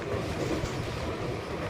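The Rani Chennamma Express, running from Bangalore to Miraj in Karnataka, rumbles steadily along the rails in a continuous low roar heard from on board, with no talking.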